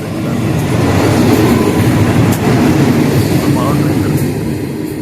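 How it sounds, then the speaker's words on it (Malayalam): A local train rumbles loudly and steadily nearby, wheels clattering on the rails as it rolls in, with a faint high squeal of brakes. "ലോക്കൽ ട്രെയിൻ ഇപ്പോൾ വരുന്നതായിരിക്കും"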